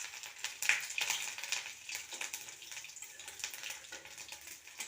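Cumin, bay leaf, chillies and ginger paste sizzle in hot oil, a steady crackling hiss with sharp spattering pops throughout, close and moderately quiet.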